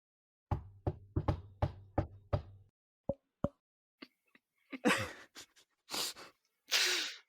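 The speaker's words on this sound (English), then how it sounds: "Chatwin, you knock on the door" Knocking on a door, six quick close raps in a steady run, then two single knocks, followed by scattered thumps and rustling noises.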